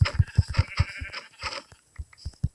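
Sheep bleating in the Minecraft video game, a run of short, rhythmic low bleats repeating closely one after another, loud and near with no talk over them.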